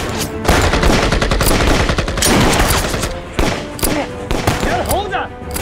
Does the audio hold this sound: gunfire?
yes